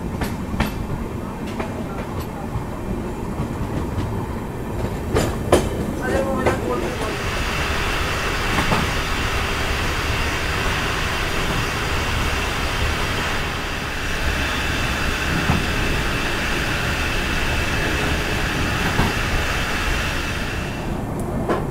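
Brand-new LHB coaches of the Amritsar–Saharsa Garib Rath Express pull out of Beas Junction after a two-minute halt, with a steady rumble and rhythmic clickety-clack that builds as the train gathers speed.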